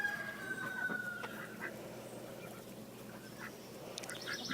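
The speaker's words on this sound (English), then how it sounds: "My other chickies are wanting their scratch." Backyard hens clamor for their scratch feed, with soft scattered clucks and calls heard at a distance over a steady outdoor hiss.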